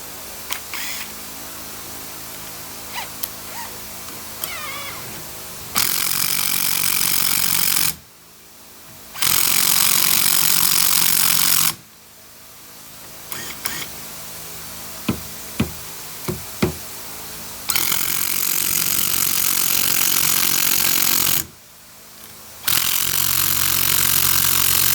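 An impact wrench tightening bolts on a Peterbilt 379 truck, with several loud sustained buzzing bursts between quieter stretches of small clicks and clanks, close by.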